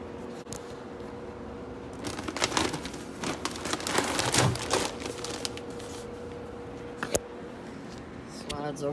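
Corn kernels pour down a chute and slide into a bag on a farm, a dense rain-like rattling hiss that swells and fades over several seconds, with someone talking over it.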